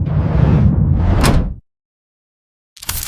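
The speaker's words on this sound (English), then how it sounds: "the door seals you in." A pod door slides along with a loud whoosh and closes, sealing shut, followed by silence and then a brief second burst of noise.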